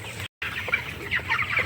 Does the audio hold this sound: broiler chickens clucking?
yes